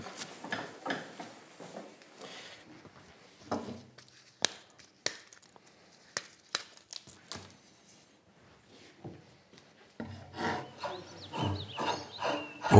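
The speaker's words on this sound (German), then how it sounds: "Ich werde jetzt runden mit den Ziehmessern." A drawknife shaves the edges of a bandsawn maple chair leg to round it, producing irregular scraping and chopping strokes with short pauses in between, close and fairly quiet, with no talking.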